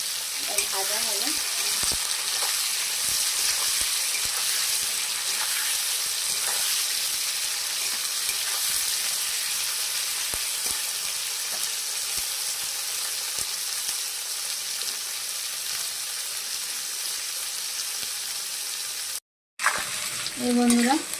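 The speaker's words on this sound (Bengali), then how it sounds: "এই বন্ধুরা, ফুলকপি আলুটা ভাজা হয়ে গেছে।" Cauliflower and potato frying in a pan with steady, dense sizzling throughout and occasional stirring scrapes; a brief gap near the end, then a voice speaks faintly over it.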